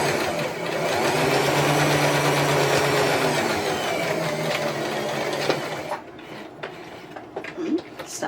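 A sewing machine stitches fabric for a Christmas ornament, running steadily and evenly for several seconds before stopping, followed by scattered light handling clicks.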